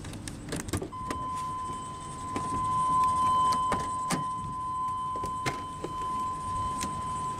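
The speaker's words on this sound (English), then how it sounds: "The driver's window is automatic down." Power driver's window on a 1997 Chevrolet Express G1500 Gladiator conversion van with a 5.7-liter Vortec V8 hums steadily as it rolls down, a thin constant electric motor whine over faint cabin noise and a few small clicks.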